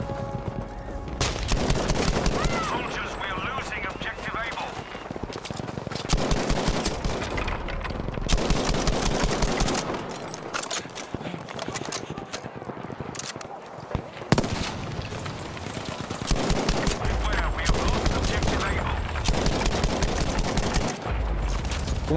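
Chauchat machine gun fire in Battlefield V, dense bursts of automatic shots in a busy multiplayer battle mix, loud and continuous with brief lulls, plus speech-like game chatter mixed in.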